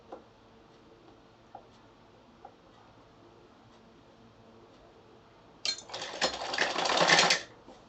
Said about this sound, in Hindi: यहाँ से शुरू करूँगी सिलाई इसकी